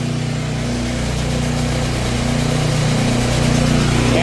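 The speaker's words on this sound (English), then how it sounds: "It's just a motor with a shaft and an impeller on it." Electric motor spinning a shaft and impeller in a tank mixer on a large spray drone rig, a loud continuous hum with steady tonal drone holding throughout, surrounded by engine noise.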